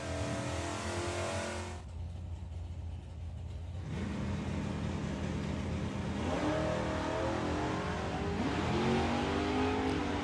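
Drag racing car launching down the strip at a summer nationals meet, a loud engine blast that cuts out, then a steady high drone with rising revs and shifts, close and powerful, no voices.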